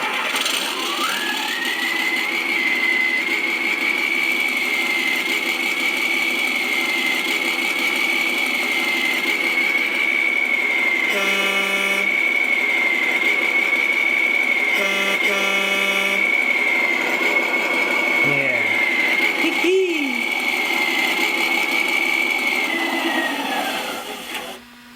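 Sound module of a radio-controlled tanker truck model playing a steady synthetic engine drone at close range for most of the clip, with brief tonal blips midway, ending in a wind-down.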